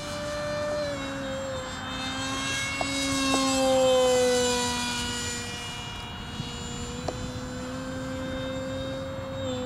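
A small fixed-wing UAV on its maiden flight over a field, its propeller motor whining at a steady pitch that swells as it speeds past close by and then fades slightly, with the pitch dropping as it moves away.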